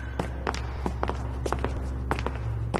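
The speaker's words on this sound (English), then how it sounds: "Follow my footsteps precisely." Careful footsteps cross a minefield in an animated scene, a sparse series of distinct, moderately close steps at an uneven, cautious pace over a low background hum.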